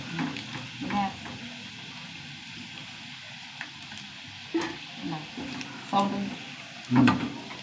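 Chicken pieces fry in hot oil in a pan with a soft, steady sizzle, broken by a few louder clatters and stirring knocks. Voices murmur faintly underneath.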